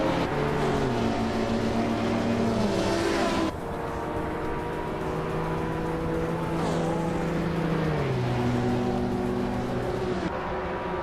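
Several race cars in a video game race drone together in loud, steady layered engine tones that shift pitch as they run, continuous throughout with no voices.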